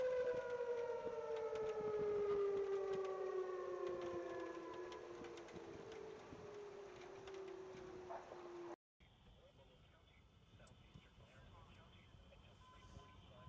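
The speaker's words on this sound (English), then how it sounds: "Those are tornado sirens here in Ottawa." Tornado sirens in Ottawa wailing with a long, slowly falling tone, faint and distant, steady until a sudden cut, then quieter background noise with someone talking over it.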